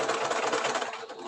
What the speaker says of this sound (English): And then that's where I start sewing.